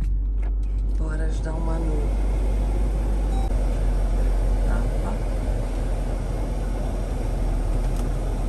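A car engine runs steadily while being pulled up to jump-start another car, a continuous close rumble throughout with voices talking briefly near the start.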